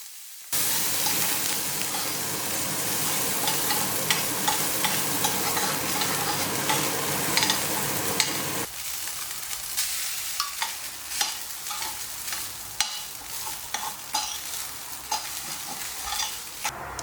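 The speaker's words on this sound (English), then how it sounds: "We stir in for it to be cooked." Mustard seeds, chana and urad dal, curry leaves and sabbasige greens fry in a pan, first with a dense loud sizzle, then quieter crackling broken by repeated spoon scrapes and clicks as they are stirred, no talking.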